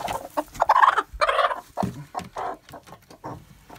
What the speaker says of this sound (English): This is my broody hen.